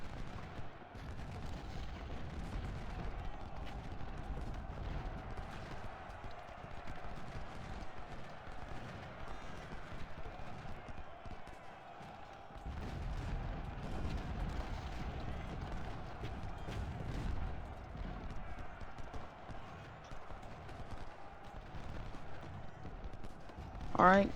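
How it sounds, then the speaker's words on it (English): In the Civil War strategy game Ultimate General: Civil War, a brigade's musket volley crackles as a dense, distant rattle of gunfire, blending into continuous battle noise over a long stretch with faint background talk. "we get a good volley from Slocum's brigade into Wilcox's flank"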